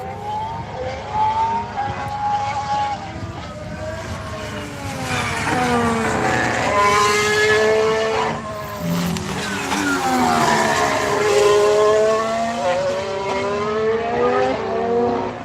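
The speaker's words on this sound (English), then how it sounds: "Amazing sound, the Honda, yeah, one of the best sounding cars." A high-revving Honda-powered Formula One engine howls past during testing, pitch rising and falling through gear changes, loud and continuous with a second car's whine blending in.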